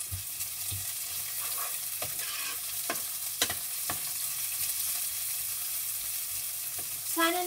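Beef steak frying in a stir-fry pan as onions go in, a constant close sizzle broken by sharp clicks and scrapes of a spatula, with a brief louder hiss near the end, no talking.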